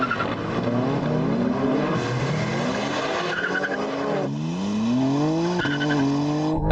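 Audi RS6 launching off the line in a drag race on cold tyres, a loud close engine roar rising through repeated gear-like pitch sweeps with tyre squeal and skidding, no talking.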